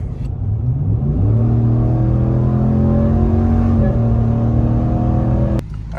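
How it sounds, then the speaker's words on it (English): A 2019 Ram 1500 fitted with a Corsa cold air intake accelerates from a roll, its engine note climbing steadily through the gears with a loud, droning intake roar that cuts off abruptly near the end. "Corsa intake from a roll,"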